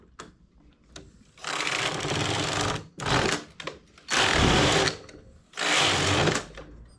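A knitting machine carriage sweeps back and forth across the needle bed, knitting rows of a geometric stepped pattern in loud mechanical rattling bursts about a second long, separated by brief quieter pauses.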